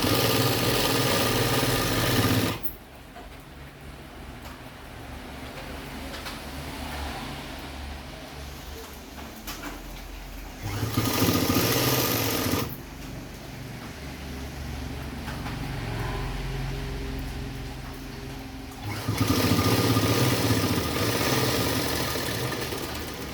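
A sewing machine runs steadily while stitching a frock nighty, its motor hum loud and continuous, with louder bursts of fast stitching at intervals in between.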